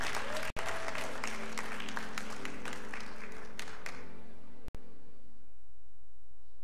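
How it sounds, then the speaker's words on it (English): A church congregation claps hands together for about four seconds, a dense, lively patter that fades out into quiet room tone with a faint hum. "Give me a hand clap as you sit down."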